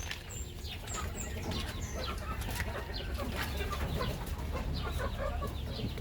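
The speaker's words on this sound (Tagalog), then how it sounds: "More chicken." Chickens cluck and chatter on a farm, a busy layered flock with scattered higher calls and light rustling, steady and moderately near with no talking.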